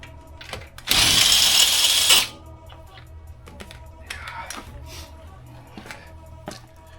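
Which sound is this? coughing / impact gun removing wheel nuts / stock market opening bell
impact gun removing wheel nuts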